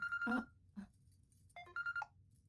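A telephone rings faintly in short electronic bursts, two clusters of tones separated by a pause, quiet and alone.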